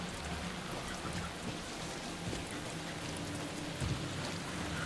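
Steady rain pours in the Alan Wake 2 video game, a dense even hiss of drops with no break, moderately loud and alone, with faint low rumbles underneath.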